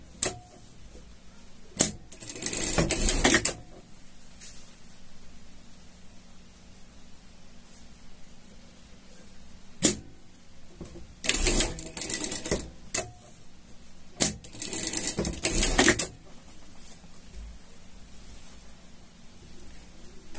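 A sewing machine runs three short stitching bursts on a pet harness seam, separated by quiet pauses with occasional clicks of handling.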